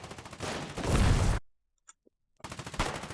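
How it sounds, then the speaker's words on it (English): Rapid gunfire in Foxhole, dense repeated shots that rise to a loud burst, drop into silence, then resume as quick rhythmic cracks. "Literally a guy there shooting."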